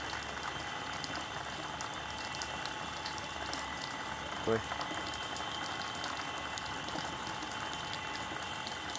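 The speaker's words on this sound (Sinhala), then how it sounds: "එහා පැත්තයි මේ පැත්තයි දෙපැත්තම මේ සමානව වහලේ වතුර විදිනවා." Water from a pipe fed by a small water pump sprays evenly over both sides of a roof, making a steady, unbroken hissing rush throughout; a single short word is spoken midway.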